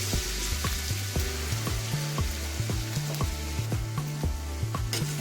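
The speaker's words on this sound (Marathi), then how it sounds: "आपल्याला त्या लसूण चांगला परतून घ्यायचं आहे" Garlic frying in oil in a pan for a prawn masala, a steady close sizzle with repeated stirring scrapes in a regular rhythm, no talk.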